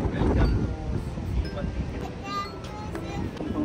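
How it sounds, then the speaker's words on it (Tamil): Strong wind blowing outdoors in Qatar, rumbling across the microphone as a loud low roar that eases slightly, with faint background sounds and voices. "இன்னைக்கு ரொம்ப வின்ட்டு சரியவே இல்லை, சரியான காற்று"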